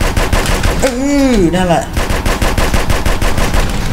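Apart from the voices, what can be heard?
gunfire in video game GTA San Andreas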